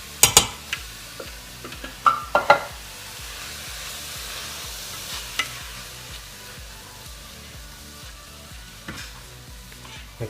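Stuffing mixture for Southwestern-stuffed portobello mushrooms stirred in a pan on the stove, with a steady close sizzle of frying beneath a run of sharp spoon scrapes and knocks that come thick early on and thin out later.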